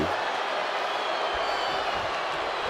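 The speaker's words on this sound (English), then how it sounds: "it sounds like the crowd is mixed" Wrestling arena crowd noise in WWE 2K26, a steady, dense roar of many voices at moderate loudness, constant throughout without clear peaks.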